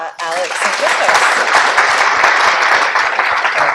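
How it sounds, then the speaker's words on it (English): Audience at a photo festival breaks into a big, sustained round of applause, dense clapping filling the room, loud and close, with a voice briefly over the start. "If we can just get a big round of applause for Alex and Christos."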